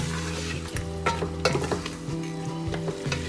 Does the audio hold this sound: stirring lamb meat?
yes